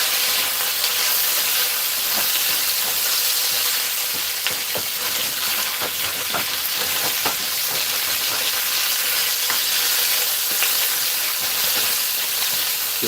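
Chicken wings fry in a pot with a steady, loud sizzle and hiss throughout, bubbling oil crackling continuously with occasional sharper pops and no voices.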